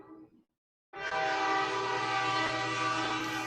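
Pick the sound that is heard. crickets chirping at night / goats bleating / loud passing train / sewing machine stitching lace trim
loud passing train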